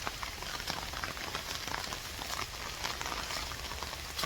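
Monsoon rain falls steadily around a home in Udupi, a dense, even patter and hiss without breaks and no voices.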